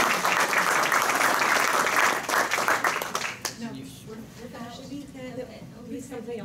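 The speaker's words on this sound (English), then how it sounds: "we should give Suzanne another round of applause for all of her" Audience applause at a Rotary Club meeting, dense and loud for about three seconds before tapering into scattered claps with voices talking over the fading sound.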